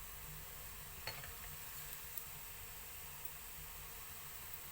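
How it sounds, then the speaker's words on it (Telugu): Aloo dum dahi bora fry in hot oil for an Odisha-style dish, giving a faint, steady sizzling hiss throughout with a couple of small pops. "ఫ్రై అవుతుందండి"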